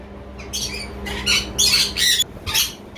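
A parrot at a bird and pigeon market in Mirpur, Dhaka, giving five or six loud harsh squawks in a rough rhythm over a low background hum.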